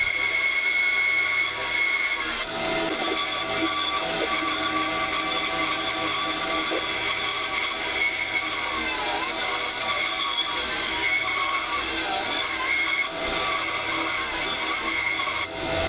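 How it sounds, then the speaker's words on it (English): A bandsaw cuts waste material from brass and ebony knife handles, a steady loud machine whine with shifting scraping tones running continuously throughout, with no talk. "I'll cut away the waste material on the bandsaw."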